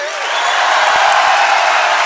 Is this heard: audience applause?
yes